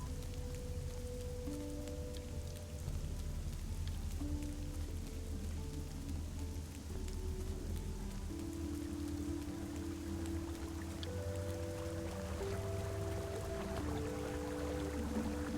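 Steady rain falls in a video game, a soft continuous hiss of drops that runs the whole time beneath background music.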